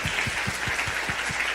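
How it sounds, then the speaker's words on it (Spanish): Audience applause for mothers and teachers at a children's literature gathering, sounding as a steady wash of clapping with a few louder hand claps standing out, continuing for the whole short stretch. "quiero que le den un aplauso a las mamás y a las profesoras amorosas"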